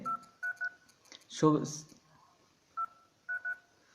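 Short keypad beeps from an Android phone dial pad as a code is entered: single tones and quick pairs in an irregular rhythm, close and clear, with a brief burst of voice partway through.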